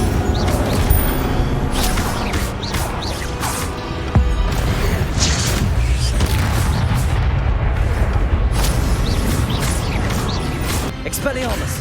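A fiery Incendio spell blast in the Hogwarts Legacy game bursts loudly amid dense combat noise, with booming impacts and crashing debris running continuously; a voice speaks over the din.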